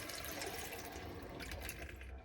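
Water running steadily from a tap in an Adria Twin Supreme 640SGX caravan while its water lines are purged, a continuous close splashing rush through the brief moment.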